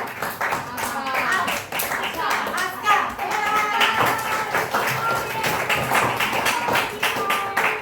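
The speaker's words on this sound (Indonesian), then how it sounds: "Tepuk tangan untuk Faustin, Pipin, dan" Schoolchildren in a classroom clap their hands together in a brisk, rhythmic burst of many small hands, close and lively, with a voice calling out over it.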